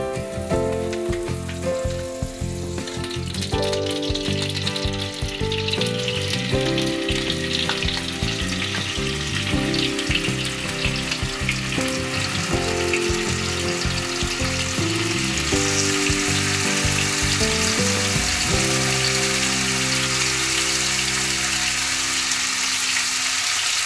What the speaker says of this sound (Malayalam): എന്നിട്ട് ചിക്കൻ ഫ്രൈ ചെയ്തെടുക്കാം